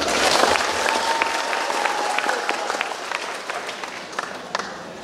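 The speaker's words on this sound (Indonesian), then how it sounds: "Tepuk tangan dulu." A graduation ceremony crowd claps steadily, with the applause loudest at first and thinning out over a few seconds.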